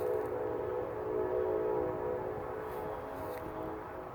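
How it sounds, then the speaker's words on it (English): A train passes as a continuous rumbling roll with a steady low hum. It sounds moderately near and carries on evenly without talk. "So that train right there was produced to carry goods to various places"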